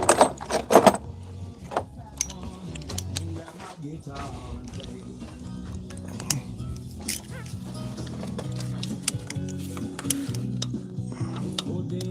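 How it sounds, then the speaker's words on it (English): Wrench work on bolts on a CaseIH Farmall 75c tractor during a fuel leak repair, heard as faint, scattered metallic clicks and clinks of the tool at close range over a low background hum. "So we're going to take those 2 bolts off."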